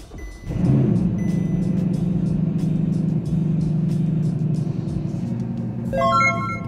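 A car engine cranks and catches after being jump started with a GOOLOO GP2000 portable jump starter, then settles into a steady idle nearby, with a few electronic dashboard chimes toward the end.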